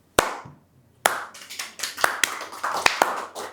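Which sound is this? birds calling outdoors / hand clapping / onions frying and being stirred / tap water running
hand clapping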